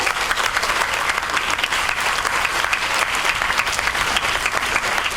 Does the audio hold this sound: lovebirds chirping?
no